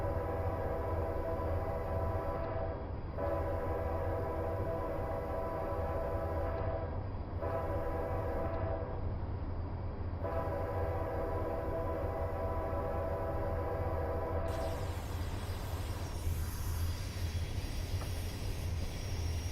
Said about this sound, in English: You can see the whole train.